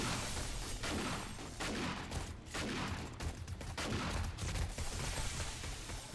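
Dense, continuous gunfire during a night-three zombie horde in 7 Days to Die, with shotgun blasts mixed into a steady roar of overlapping shots and booms that carries at high, constant loudness throughout.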